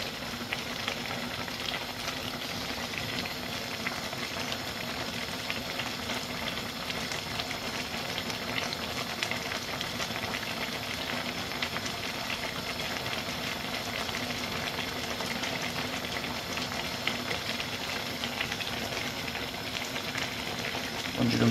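Liquid boils and reduces in a pot in a hemp-processing setup, a constant close bubbling hiss and sizzle holding steady throughout with no voices.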